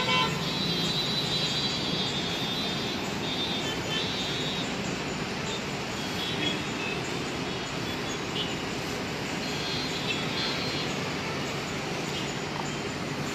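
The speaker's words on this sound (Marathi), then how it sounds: "full traffic jam" Heavy traffic stuck in a jam at Porvorim, a steady roadway rumble of idling and creeping vehicles with occasional car horns honking through the dense, continuous noise.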